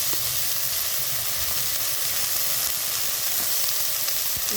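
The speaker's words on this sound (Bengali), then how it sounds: "সমস্ত সবজিগুলোকে সুন্দরভাবে ভেজে নিতে হবে।" Vegetables including beet and cabbage frying in a pan for veg chicken chowmein, a dense, even sizzle and hiss heard close and constant throughout with faint occasional stirring clicks.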